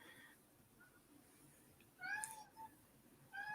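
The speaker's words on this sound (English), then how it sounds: "this cat Jacob" A cat gives two faint meows, spaced about a second apart, over a quiet, slightly hissy room background.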